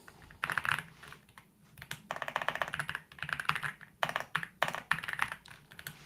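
Fingers type on a computer keyboard during a live coding stream, rapid clattering key presses arriving in uneven bursts with short pauses, close and moderately loud.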